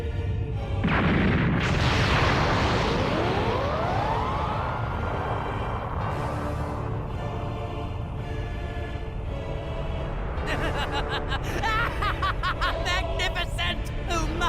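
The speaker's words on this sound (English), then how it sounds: "Zarbon, Dodoria, are you seeing these brilliant fireworks?" Anime fireworks display bursting loudly in a dense, continuous wash of booms and crackles, with rising whistling streaks and a bright crackling burst near the end.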